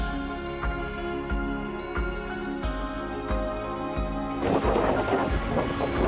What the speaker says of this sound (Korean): 가슴까지 시원해지는 파도 소리가 듣기에 좋습니다.